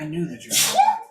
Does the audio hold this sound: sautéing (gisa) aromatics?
no